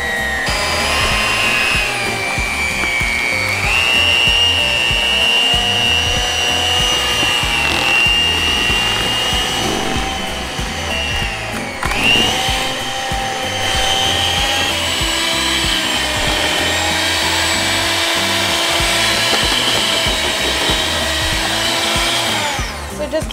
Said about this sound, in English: And then using your mixer, we're going to break it down.